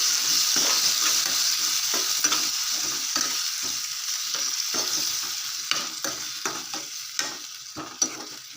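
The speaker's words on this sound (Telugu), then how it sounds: "టమాటో ముక్కలు కూడా వేసేసుకోవాలి వేసుకొని బాగా కలిపేసుకోవాలి" Tomato pieces fry in a pan for a drumstick curry, a loud steady sizzle punctuated by repeated scraping strokes of a spoon stirring them.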